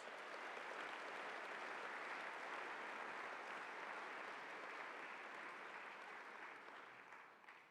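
Sustained audience applause at a university convocation, a dense, even wash of many hands clapping for several seconds, heard from a distance and tapering off at the end.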